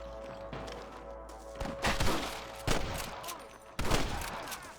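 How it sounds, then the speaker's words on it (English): Several loud gunshots from the video game Red Dead Redemption crack out one after another over a steady background hum, spaced a second or so apart with echoing tails. "I can hear more gunshots."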